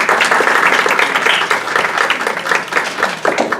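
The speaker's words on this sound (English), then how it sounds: "Give yourselves a round of applause." Steady applause from a storytelling workshop audience of teachers gathered in a hotel, dense and continuous clapping sustained close by throughout with no one speaking.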